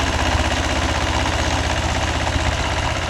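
A Mahindra 265 DI tractor, a 2002 model, runs its engine with a steady, loud diesel chug and knock. The rhythmic low thrum holds close and unchanging throughout.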